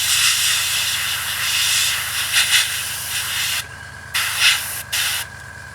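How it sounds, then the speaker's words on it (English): An airbrush spraying a light dark coat onto a 1/32 scale RE.8 biplane model, a loud close steady hiss that cuts off and restarts in short bursts toward the end. "light spray of the model, just giving it a nice dark tone"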